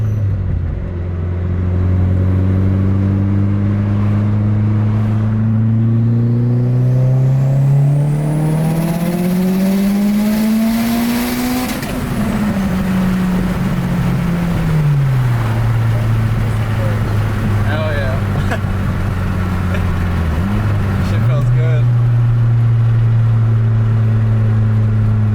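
A 500 hp Mitsubishi Evo 9 pulls hard through second and third gear, its engine note climbing loudly, dropping at the upshift and rising again, heard from inside the car alongside some talk.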